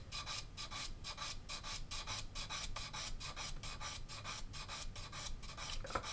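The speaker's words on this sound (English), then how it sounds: "I'm putting very little pressure on this sanding stick. I'm letting it follow the contour of the kit." A sanding stick rubs lightly over the curved surface of a plastic model kit in quick, even back-and-forth strokes, a faint, steady rasping rhythm close by with no speech.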